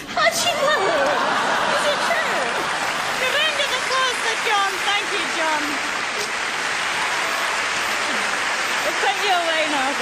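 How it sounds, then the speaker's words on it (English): At a live comedy show with a ventriloquist, an audience breaks into dense, sustained clapping that fills the room for about ten seconds, mixed with scattered laughter and voices underneath. "Round of applause for John."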